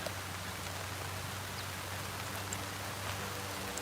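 Steady rain falls outdoors under a passing cloud, a continuous even hiss of drops with faint scattered patters throughout, no voices.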